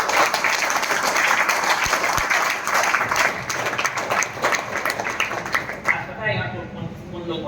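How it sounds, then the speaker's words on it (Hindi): Loud applause from a seated audience at a Tiens business meeting, sustained dense clapping close by that fades out after about six seconds, leaving only a brief scatter of sound. "ताली ऐसे होना चाहिए"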